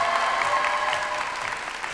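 Steady applause from an audience at a Japan Expo stage challenge, clapping in support of a contestant named Chloé; dense, continuous and even in level throughout, with no voices over it.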